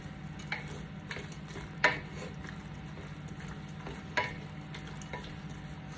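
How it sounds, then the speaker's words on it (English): A spoon stirring beef stew in a pot, soft steady bubbling underneath with a few sharper scraping clacks of the utensil against the pot, fairly quiet and close. "So I'm just going to stir the stew a little bit."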